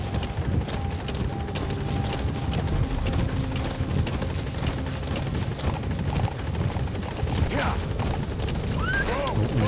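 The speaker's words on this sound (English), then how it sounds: "support helicopter has arrived." A video game support helicopter's rotor thumps and whirs continuously at close range, steady and loud with mechanical rattling, and a faint voice briefly underneath.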